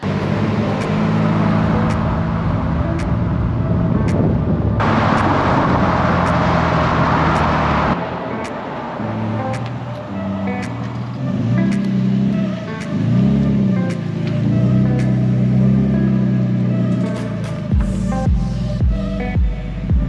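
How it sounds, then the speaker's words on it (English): A Toyota Supra drives down the Pacific Coast Highway, its loud engine droning steadily nearby with shifting pitch as it accelerates and passes, plus road and wind noise throughout. "Kind of recreating the PCH scene where they're driving down the road and coming in hot."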